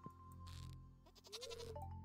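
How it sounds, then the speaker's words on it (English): Goats bleating in the video game Stardew Valley, a couple of short, nasal farm-animal cries over a faint steady background tone, with no talk. "I don't like goats, that's why. They always yelling at me."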